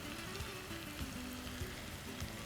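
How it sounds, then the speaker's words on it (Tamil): Onions sautéing in oil with green chillies, garlic, ginger, cinnamon, cloves and bay leaf, giving a steady close sizzle and crackle throughout with no talking. "வெங்காயத்தை வதக்கிறோம்"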